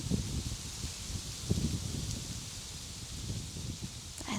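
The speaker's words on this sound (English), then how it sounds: "There's a lot of wind element today where I am." Wind blowing outdoors makes a soft steady rush, with gentle rustling gusts and low buffeting against the microphone. Quiet and continuous, with no talking.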